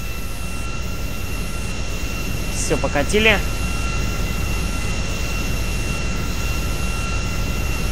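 Airplane engine hum in GTA 5 as the plane taxis toward the runway, a steady drone with a thin whine, with someone speaking briefly midway.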